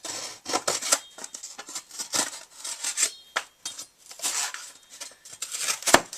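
A knife cuts through cardboard in a sharpness test, giving a rapid, uneven run of close scraping and slicing strokes over several seconds, with no talk.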